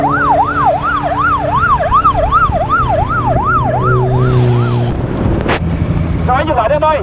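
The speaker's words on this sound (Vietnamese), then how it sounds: "Cho cứu thương qua." Ambulance siren wails in a rapid rising-and-falling cycle, loud and close, then cuts off abruptly. Road noise and other horns follow, with voices talking throughout.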